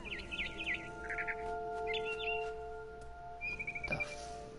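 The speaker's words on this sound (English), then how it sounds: "Then I heard chirping outside my window. It was a barn swallow going back to her nest." A barn swallow gives quick bursts of bright chirps just outside a window in the video game What Remains of Edith Finch, the twittering calls coming in short clusters over a quiet hum with steady tones.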